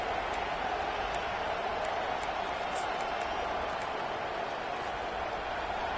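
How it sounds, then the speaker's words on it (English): Football stadium crowd at a Virginia Tech versus Stanford game roaring and cheering in a loud, continuous wall of sound from start to finish, with a commentator talking over it. "This crowd, full throat, splitting the eardrums and letting them know it's going to be a long day."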